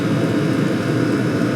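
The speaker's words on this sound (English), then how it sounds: "directly in the fan blower, I'm getting like 94 decibels, but that's directly in the airstream" A cheap diesel night heater's fan blower roars in a steady, dense whoosh of air, heard close up in its airstream with no speech.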